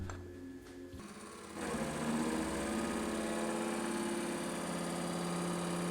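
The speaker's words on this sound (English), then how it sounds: "now it's time to face the rough side on the mill" A milling machine faces the rough side of a 7075 aluminium block. After a brief quiet start the mill starts up and settles into a steady, close mechanical whir and hum that holds to the end.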